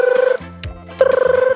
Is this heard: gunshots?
no